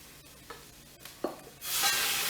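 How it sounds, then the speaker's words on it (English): Pork is added to a wok of sizzling garlic and ginger, giving a few scraping stirs and light taps before a loud, sustained sizzle of frying takes over. "we're gonna give them a break from the heat by adding the pork"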